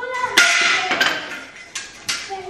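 Sharp hammer strikes ring out during home furniture assembly, several loud, bright blows spaced irregularly with resonant tails, heard close up with no talking.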